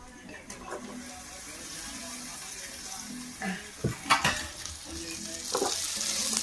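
Chicken dropped into a spicy masala sizzles in a pan, a steady close frying hiss with bursts of scraping and clinking as it is stirred, and a faint voice underneath.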